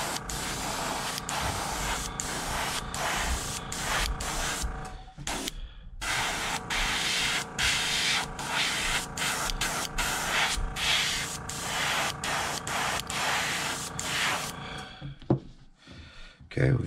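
An airbrush sprays thick pearl paint onto a hand-carved lipless crankbait fishing lure, a steady hiss broken into short bursts by brief pauses, close and clear with little else in the background.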